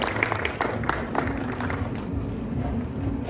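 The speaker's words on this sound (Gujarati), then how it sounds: "ફૂલો આપણે જોરદાર તાળીઓથી એમને બિરદાવીએ" Applause from an audience at a government office retirement and birthday gathering for a senior clerk, steady dense clapping throughout, fairly close and continuous without any voices.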